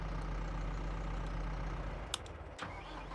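A tractor engine in Farming Simulator idles with a steady low rumble throughout, with a couple of brief mechanical clicks near the end.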